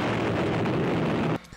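Detonation of a World War II bomb holding nearly 2.5 tonnes of explosive in the port of Świnoujście, a sustained broad roaring rumble that cuts off abruptly near the end.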